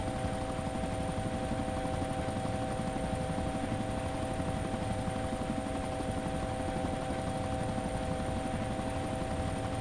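An idling helicopter engine in the video game DayZ drones on steadily with its rotor spun up. It stays constant and moderately loud throughout, with no speech.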